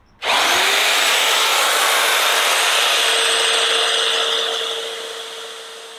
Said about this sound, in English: The best way to carve out the pocket is with a router